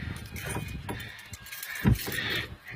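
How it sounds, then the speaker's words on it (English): Small metal keys for a Chevrolet K5 Blazer jingle and clink close by in a few quiet bursts, with a soft thump near the middle and low background noise. "I'm gonna get my keys out here."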